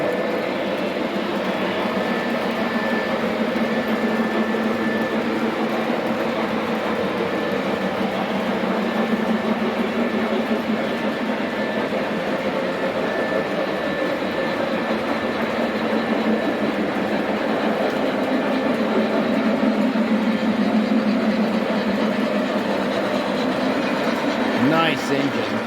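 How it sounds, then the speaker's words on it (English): A model Halloween train runs around a home display layout, giving a continuous rolling rumble with a faint high whine that holds steady throughout and swells slightly near the end. "Here comes the Halloween train"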